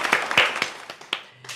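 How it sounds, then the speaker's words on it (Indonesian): A few scattered hand claps from a small group in a podcast studio, sparse and uneven over a quiet room, with a faint tone near the end. "Tepuk tangannya dulu dong"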